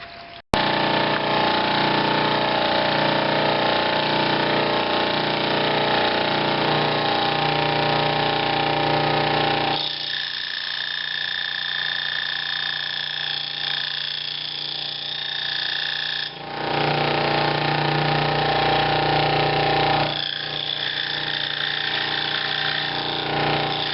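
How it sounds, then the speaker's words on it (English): A router bit cuts a relief into the top and bottom of a wooden piece for an American Girl doll bed, a loud, steady, continuous whine that dips slightly in the middle stretch before returning to full strength. "to cut a little relief top and bottom here in order to fit into the hole and not have a jagged edge on where my router bit went"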